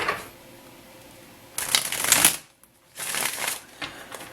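Tarot cards are shuffled in two brisk riffling bursts, close and crisp, separated by a brief pause.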